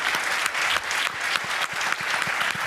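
Steady audience applause for a team at a software industry session, a dense wash of many hands clapping at moderate loudness with no talk over it.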